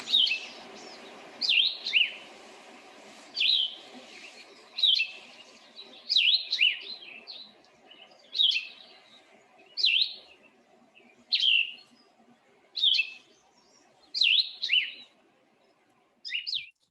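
Vireo song from a Cassin's, plumbeous or blue-headed vireo: short, questioning phrases repeated about every second or two with brief pauses between, clear and fairly near in a quiet outdoor setting, no voices.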